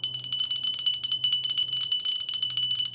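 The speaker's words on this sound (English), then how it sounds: "And then we have a glass bell here." A hand-painted glass bell rings continuously in rapid, shimmering high tinkles, close and fairly loud, with no talk.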